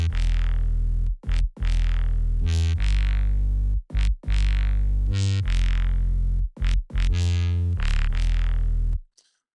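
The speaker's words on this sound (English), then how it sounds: "this is supposed to complement this Reese bass down here" A thick, distorted Reese bass synth line plays a series of long sustained low notes with short gaps between them, loud and close with no speech, ending in a sudden cutoff.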